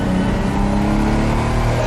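A Lamborghini Miura's engine revs hard and close, a loud, continuous mechanical roar with a rich, steady tone and no voices over it.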